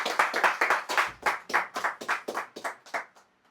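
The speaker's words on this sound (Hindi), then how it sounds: "चलो तालियां बजा दो इनके लिए।" A small group claps for a mobile repairing course student receiving a certificate: a short burst of rhythmic hand claps, fairly quiet, trailing off after a few seconds.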